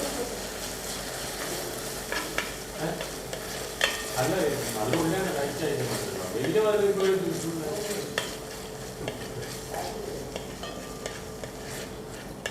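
A spoon works through taro leaf payasam in a pot right after millet goes in, producing soft continuous scraping and bubbling up close, with a short murmur of voice partway through.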